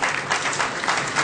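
Brief burst of steady applause from an assembled audience at a religious gathering, loud and continuous for just over a second.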